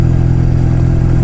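Steady, loud motorcycle engine drone heard while riding, a constant mid-pitched hum with rumbling low throb and no speech over it.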